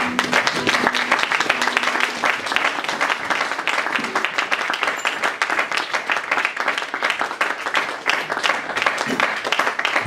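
A church congregation claps and cheers in acclamation of God, a dense, sustained applause with voices mixed in, steady and loud throughout.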